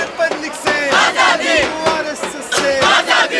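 A protest crowd at Jantar Mantar in Delhi, the Cockroach Janata Party demonstration, chanting slogans in loud, rhythmic call-and-response bursts, with roughly one shouted phrase each half second from many voices close by.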